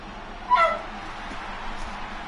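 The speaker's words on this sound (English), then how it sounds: "if you hear a dog whining in the background" A dog in heat whines faintly in the background, one short high whimper near the start against steady room noise.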